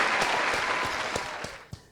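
Applause from a small group at a podcast recording, steady and close at first and then thinning into a few scattered claps that fade out, with no talking.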